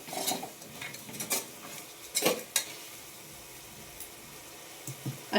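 Ginger garlic paste fries in a pan while being stirred, a low sizzle with scattered spatula scrapes and clinks against the pan, close and moderately quiet.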